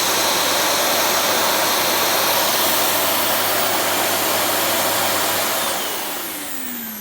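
A Dyson DC07 upright vacuum cleaner running with a loud, steady, close whooshing roar that holds for several seconds and then starts to wind down.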